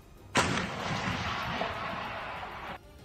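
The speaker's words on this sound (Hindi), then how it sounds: "एक तोप से गोला दाग दिया गया" An artillery cannon fires a shell in war news footage from Russia and Ukraine, one sharp loud blast that rolls on as a sustained roar for about two seconds before cutting off.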